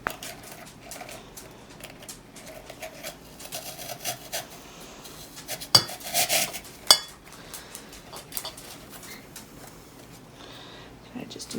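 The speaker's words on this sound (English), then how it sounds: "I'm just going to put my teapot. Then I've got my sugar bowl. And then my creamer" Ceramic teapot, sugar bowl and creamer are set down on a dining table, giving a few clinks and knocks, a couple of sharper clatters in the middle, with someone talking throughout.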